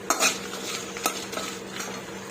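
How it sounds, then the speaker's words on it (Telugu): Cumin seeds and dried red chillies dry-frying in a pan while being stirred, giving scraping strokes, a few sharp utensil clinks against the pan and a faint crackle underneath. "జీలకర్ర కొంచెం చిట్టపట్లాడేంత వరకు ఉండిచ్చి తీసేసుకుంటానండి"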